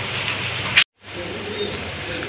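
Pigeons coo softly in a loft of white big-size show pigeons, low murmuring calls under steady background noise, broken by a brief cut to silence partway through.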